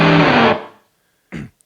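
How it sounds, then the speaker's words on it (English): An electric guitar chord is struck through a 1980s ProCo Rat II pedal set to full distortion with the treble fully cut; it is loud and short, fades quickly, and a brief quieter chord hit follows. "full distortion, full treble cut, and you can still hear the highest note in that chord"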